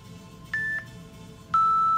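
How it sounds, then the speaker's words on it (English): Two electronic timer beeps marking the end of a hold during front squats, a short mid-pitched tone followed about a second later by a longer, slightly lower sustained tone, over quiet room noise. "The beeps designate the end of the hold and the end of the rest"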